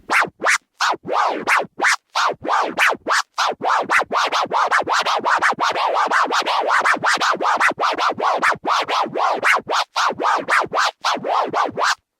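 A DJ tear scratch on a record, played as two forward and two backward strokes, repeating in a quick, steady rhythm of short, rasping swipes, close and alone.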